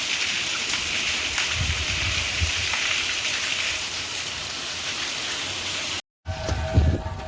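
Rain falls on a village in a steady, fairly even hiss, broken by a brief dropout near the end followed by a few closer knocks.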